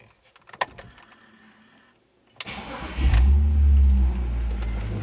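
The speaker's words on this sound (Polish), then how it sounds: "Teraz odpalimy sobie beskę." Faint clicks and rustling, then a starter cranks and a BMW E46's engine catches and settles into a loud, steady idle close by.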